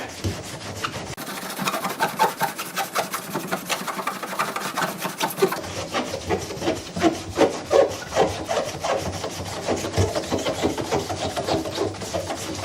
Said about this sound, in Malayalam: ശരിക്ക് ഇതുപോലെ ഒന്ന് ഉരയ്ക്കുക